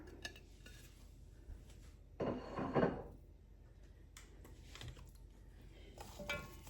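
Chopped yellow onion, carrots and celery are stirred in a pot for beef stew, a quiet scraping, rustling stir lasting under a second, with faint clinks of the utensil against the pot before and after.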